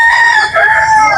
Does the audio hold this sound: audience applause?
no